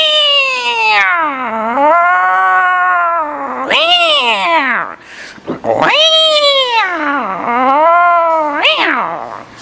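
A voice imitates an angry female cat, drawing out loud, wavering yowls that rise and fall in pitch, with a brief pause between long caterwauls.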